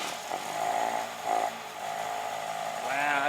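Freshly rebuilt engine of a Daihatsu Fellow running with a new muffler, a steady buzzing idle with rising revs and a harsher rasp near the end, fairly close.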